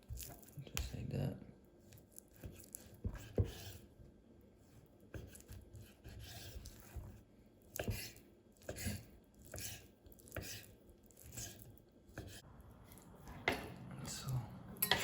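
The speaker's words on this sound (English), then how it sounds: "we're gonna cut some big cubes like that" A knife chopping raw salmon into big cubes on a board, giving irregular soft thuds and taps with a person talking over them.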